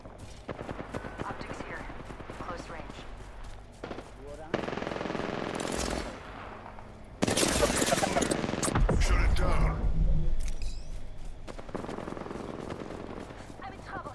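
Automatic gunfire in the battle royale Apex Legends crackles in loud rapid bursts, with a dense sustained volley in the middle and other shots between, while a player talks throughout.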